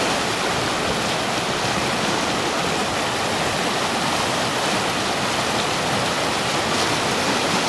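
The Katun River in Altai rushing and churning hard, a loud, constant broadband roar of turbulent water close by, steady throughout with no voices audible.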